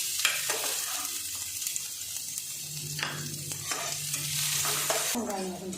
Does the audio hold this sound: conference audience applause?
no